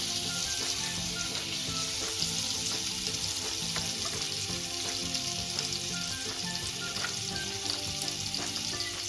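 Butter and oil sizzle steadily in a hot pan, a loud, continuous bright frying hiss with small crackles and no talk.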